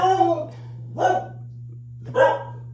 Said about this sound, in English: She has to bark at the mailman every day.